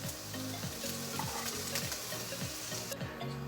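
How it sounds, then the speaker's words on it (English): Onion and tomato frying in coconut oil in a pan, a dense continuous sizzle close up with faint stirring, no one speaking. "So here we're going to fry 1 onion and 1 tomato."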